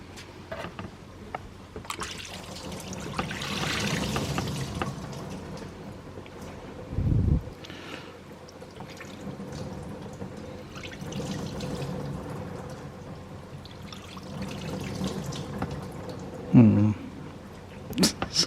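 Coolant draining from a 2nd-gen Chevrolet Equinox V6 engine onto a shop floor during a water pump removal, a soft intermittent trickle and splash, mostly quiet, with someone speaking and a few clanks of tools.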